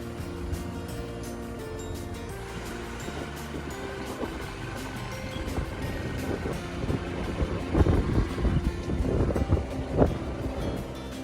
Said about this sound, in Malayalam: ചിറ്റൂർ പുഴയിലേക്ക് വെള്ളം തുറന്നുവിടുന്ന ഷട്ടറാണ് നമുക്ക് മുന്നിൽ ഇപ്പോൾ കാണുന്നത്